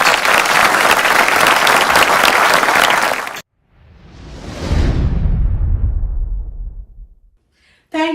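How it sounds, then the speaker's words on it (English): Audience applause for artists at an Indian culture festival finale, loud and dense for about three seconds, then a sweeping whoosh effect swells and fades before a brief burst at the end. "Let's give all our artists a big round of applause."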